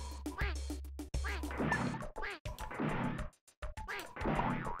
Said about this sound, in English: Also, why do they quack?